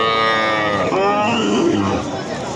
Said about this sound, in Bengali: এগুলো সব দুধ খাকে বাছুর